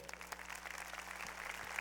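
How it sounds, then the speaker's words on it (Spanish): Applause from a church congregation during a Spanish-language sermon on raising children, quiet and distant, a steady broadband patter of many hands with a low hum beneath, lasting under two seconds. "¿Merecen un aplauso los recabitas?"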